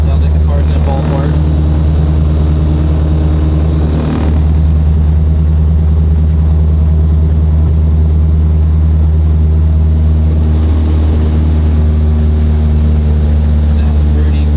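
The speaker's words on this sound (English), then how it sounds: "Sounds like the car's gonna fall apart." Loud, steady low rumble of a Chevrolet SS sedan driving fast, with a broad rattling vibration running throughout; a voice speaks briefly over it.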